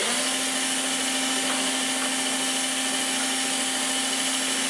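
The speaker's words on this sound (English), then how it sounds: "when you put them together, the drill goes" A Ryobi 12 volt battery drill powered from a mains adapter runs at a steady, even motor whine for the whole stretch, with no talk over it.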